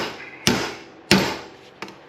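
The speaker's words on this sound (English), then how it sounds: "Let the weight of the hammer do the work." Three sharp hammer blows ring out on the metal parts of an RB26 engine's ITB assembly being torn down, two heavy strikes about half a second apart and a lighter third one, each decaying quickly in a quiet workshop.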